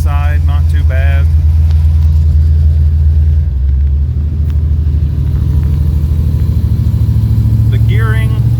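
Inside the cab of a G-body El Camino with an LT1 swap and a 6-speed, the engine drones loud and steady with a deep rumble, while someone talks briefly at the start and end.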